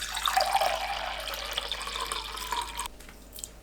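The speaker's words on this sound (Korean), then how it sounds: "팥 삶은 물 모두 넣고 일반 물을 더해서 물량을 총 800ml로 맞춥니다" Red bean cooking water and plain water pour into a pot for five-grain rice, a steady close rushing splash that stops abruptly near the end, followed by faint drips.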